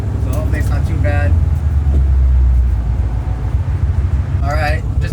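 Loud Ford Mustang driving on a road toward a freeway, a steady deep engine rumble close inside the cabin with a person talking briefly over it.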